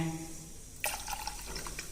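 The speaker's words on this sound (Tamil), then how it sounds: "ஒரு டம்ளர் பால் விட்டுட்டு மீதிக்கு நான் தண்ணி விட்டுக்கிறேங்க" Boiled, cooled milk and water being poured into a pot for sweet rice, a quiet trickling and splashing pour that starts abruptly and continues faintly.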